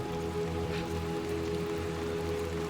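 Steady rain falls in the video game Little Nightmares 2, a continuous even wash of drops with a low tonal hum underneath and no voices.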